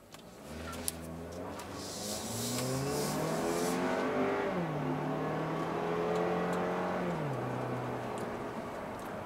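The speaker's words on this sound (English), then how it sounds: "the 2-liter turbocharged four-cylinder just goes about its business really quietly" Turbocharged 2.0-litre four-cylinder engine of a 2017 Buick Envision while driving, a steady hum rising in pitch through the gears with smooth shift drops, heard from inside the cabin under road and wind noise.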